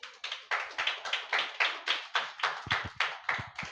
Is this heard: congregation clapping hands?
yes